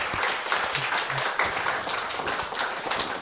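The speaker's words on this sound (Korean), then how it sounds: "여러분 뜨거운 박수 부탁드릴게요" An audience at a citizens' political talk concert applauding, dense continuous clapping from many hands filling the room at a steady level.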